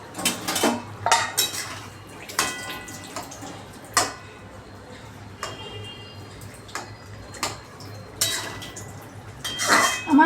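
A metal lid lifted off a cooking pot of simmering jackfruit and potato kalia, with a series of sharp clinks and clatters of metal, small ticks and faint sizzling between them.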